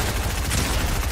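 Rapid gunfire in Fortnite as a player shoots at a llama: a loud, dense burst of overlapping shots crackling continuously for about a second.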